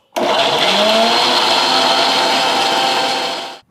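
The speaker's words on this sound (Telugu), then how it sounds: "మిక్సీ పట్టేద్దాం" A kitchen mixer grinder blends a healthy juice with a little water, a loud, steady whirring roar that starts abruptly, holds for about three and a half seconds and then cuts off, with no voices over it.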